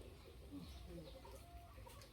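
Farm chickens cluck and murmur in a rural outdoor setting, a busy, continuous flock sound at moderate distance with scattered higher calls and a faint background of voices.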